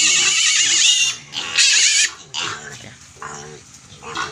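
A piglet on a farm squeals loudly in shrill bursts with short grunting oinks between them, close up, while people talk in the background.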